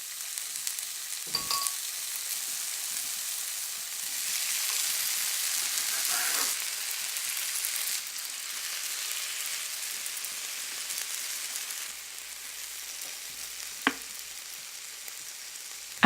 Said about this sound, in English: Fry the garlic and jalapeno for about 30 seconds